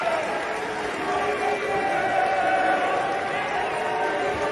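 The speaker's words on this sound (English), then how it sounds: "Mitt Romney got booed" A crowd boos Mitt Romney, a steady sustained roar of many voices that holds at moderate loudness throughout without a break.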